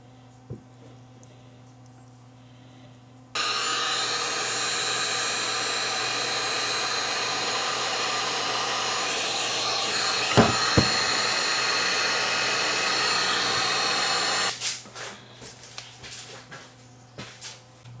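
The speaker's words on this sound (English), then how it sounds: "Bring the heat shrink tubing up over top of the splice, and then we'll heat it up and seal it." A heat gun runs at a steady, loud blowing roar for about eleven seconds while it shrinks tubing over a wire splice, with quieter handling sounds before and after.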